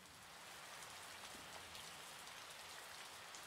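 Steady rain falls in the Trainz railway game, a continuous even hiss of drops on surfaces that stays at a constant moderate level throughout, with no voices.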